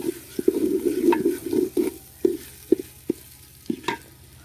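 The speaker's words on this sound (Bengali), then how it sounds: "এভাবে কিছুটা চাউল দিয়ে এরকম করে নাড়াচাড়া দিয়ে দিব।" Rice for khichuri is stirred in a pot, its grains scraping and rustling in a close, loud burst at first, then breaking into separate shorter scrapes and knocks.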